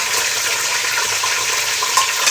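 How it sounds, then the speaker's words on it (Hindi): Chicken frying in hot oil with onions, a loud, steady, close sizzle that continues unbroken, with no voices. "हमने इसके अंदर अपना चिकन डालना है इसी प्याज के अंदर।"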